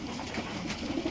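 Pigeons in a loft coo steadily, their low, throaty calls overlapping in a continuous murmur, fairly loud and close, with no voices over them.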